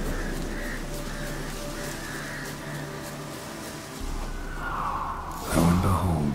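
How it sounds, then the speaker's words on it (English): Ordinary ravens cawing in The Witcher 3 game, repeated harsh caws over a steady ambient drone, followed by a rising whoosh and a burst of louder sound near the end. "Ordinary ravens, looks like."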